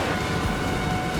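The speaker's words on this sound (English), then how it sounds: "Oh, rain to start." Rain begins in the Formula Legends F1 arcade racing game, a dense, steady hiss with low rumbling underneath and no talking.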